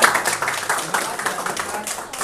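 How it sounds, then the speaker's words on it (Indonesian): A small group claps in applause at the close of an MC training session for company employees. The patter is dense and irregular and fairly close, with murmuring voices underneath. "Tepuk tangan."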